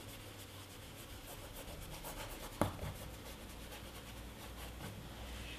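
A paintbrush scrubs oil paint into canvas in a wet-on-wet flower painting, giving faint, close rhythmic rubbing strokes with one brief tap in the middle, and no talking.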